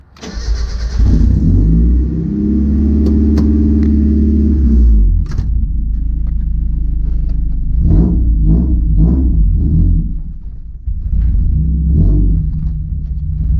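A car engine starts and idles loudly in a close garage, a steady deep rumble broken by a few short revs and a brief dip before idling again.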